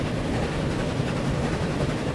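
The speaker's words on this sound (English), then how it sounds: "bring train one up. We're gonna follow it" A train rolls along in a Jamaica railway-building game on its way to Spanish Town, giving a steady, close rumble with a faint rhythmic clatter and no pauses.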